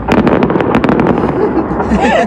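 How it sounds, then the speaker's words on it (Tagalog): A fireworks display for an airport opening in Greenland crackles in a rapid string of sharp bursts and pops that fade into rumbling echoes, with excited voices talking and exclaiming over it. "Ang ganda ng fireworks mga kabayan"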